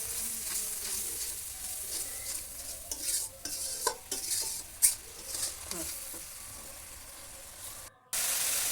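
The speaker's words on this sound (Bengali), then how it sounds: "লবণ, হলুদ গুঁড়া দিয়ে মশলাগুলো এবার আমি কষিয়ে নিব।" Spices with salt and turmeric powder frying in a pan for a raw green banana dish: faint sizzling under irregular scraping and stirring clatter from a spoon, no talking.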